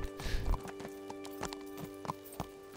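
The hooves of a mare in the video game Kingdom Come: Deliverance clip-clop in a steady walking rhythm over a low ambient hum, fairly quiet and close.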